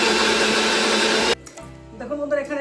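Mixer grinder blending coconut toward a fine paste, a loud steady motor whir that cuts off abruptly halfway, followed by quieter clatter and a brief voice.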